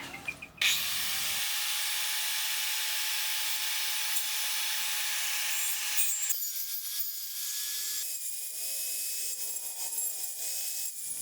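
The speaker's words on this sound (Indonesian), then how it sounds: "saya rapikan menggunakan circular saw dengan cara menggerakkan ke kanan dan ke kiri" Circular saw trimming a wooden joint, swept side to side across the cut, runs as a steady close whine with shifting tone, the blade changing pitch as it moves through the wood.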